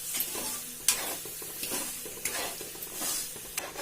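Ginger being stirred with sugar in a frying pan for ginger barfi, a steady sizzle broken by scraping strokes of the spoon and occasional clinks against the pan, close and fairly loud, with no talking.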